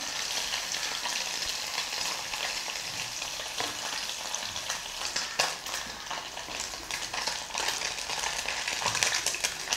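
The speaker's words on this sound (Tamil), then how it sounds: "நெத்திலி மீன் ஃப்ரை நான்சி கடாயில் வறுத்திங்கன்னா ரொம்ப அடி பிடிக்காது உடஞ்சும் போகாது" Anchovies frying in a nonstick pan make a continuous close sizzle with a few brief stirring scrapes now and then, holding at an even level throughout without any talking.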